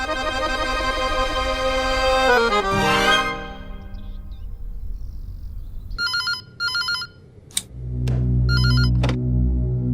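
An office telephone rings in repeated electronic bursts, loud and close, following music that fades out.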